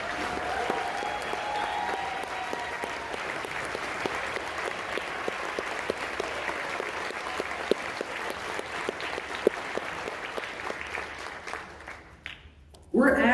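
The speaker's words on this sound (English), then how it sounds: "Please give them a round of applause." Sustained crowd applause at a political keynote event, dense steady clapping from a large audience lasting several seconds before fading out near the end.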